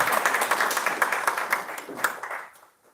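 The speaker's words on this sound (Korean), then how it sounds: "박수 부탁드립니다" Audience applause at a Korean boxing contract-signing and weigh-in event, a dense burst of many hands clapping that carries steadily before fading away near the end.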